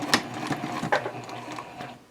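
A sewing machine stitches a seam on a triangle pyramid pouch, with short bursts of motor whir and a backstitch, close and fairly quiet, with no talking.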